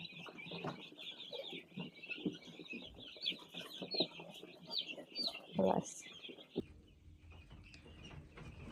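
Chicks and hens cluck and cheep in a steady chatter nearby, with scattered knocks and scuffles mixed in.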